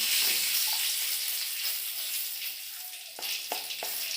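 A bay leaf with dried red chilies hitting hot oil for a dal tempering: a steady, bright sizzling hiss that holds evenly, broken near the end by a few short clinks of a utensil against the pan.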